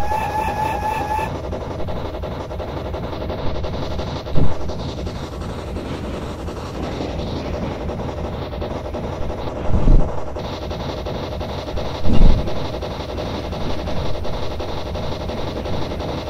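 A steam locomotive rumbles along at slow speed, a continuous heavy rolling drone with wind buffeting and a few louder thumps and knocks rising over it.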